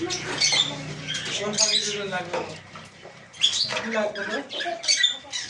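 Hand-tamed sun conure parrots let out repeated harsh, shrill squawks in quick bursts, fairly close, with a few voices talking among them.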